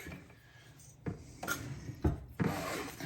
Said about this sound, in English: Let me grab a whisk.